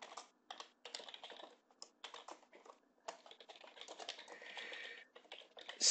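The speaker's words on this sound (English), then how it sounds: "I'm typing with the keyboard, entering the text" Rapid typing on a computer keyboard, close and fairly quiet, with irregular bursts of key clicks broken by short pauses and a denser run of keystrokes toward the end.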